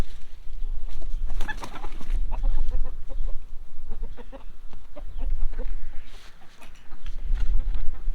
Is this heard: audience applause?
no